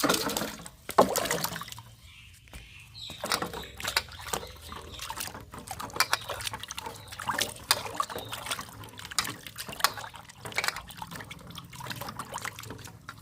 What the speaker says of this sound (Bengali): আমরা এখনও পরিষ্কার জলে আমটা ধুয়ে নিচ্ছি